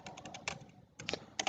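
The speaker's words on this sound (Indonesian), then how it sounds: "lalu kita ketikkan IP dari" Quick clicking keystrokes on a computer keyboard, fairly quiet and close, in short clustered bursts with brief pauses as an IP address is entered.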